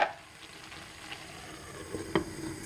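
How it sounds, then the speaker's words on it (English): A seafood okra stew with spinach simmers in a covered pot, giving a soft, steady sizzle and bubbling close by, with a few faint clinks near the end. "I'm just going to cover them and allow them to cook for 2 minutes before I can stir them all."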